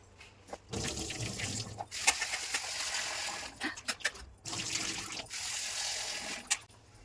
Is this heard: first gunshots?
no